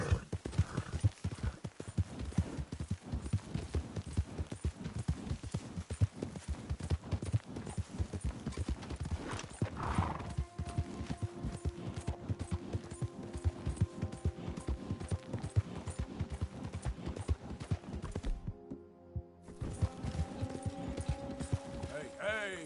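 A horse gallops in Red Dead Redemption 2, fast rhythmic hoofbeats pounding steadily and close for the whole stretch, with speech and game sounds layered over them and a brief drop-out near the end.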